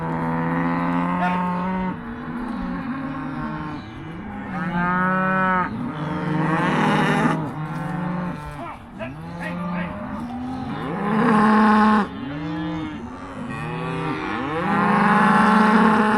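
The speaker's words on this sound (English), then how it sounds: "It was actually more of a pain with the cows that are out there wanting to come back in." Cattle on a hay farm low repeatedly in overlapping moos, several animals calling close by and loudly throughout, with some voices fading in and out over steady outdoor background.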